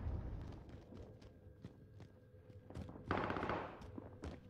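Gunfire in the video game Apex Legends crackles in scattered bursts, faint and distant-sounding, with a louder rapid cluster toward the end and no talk.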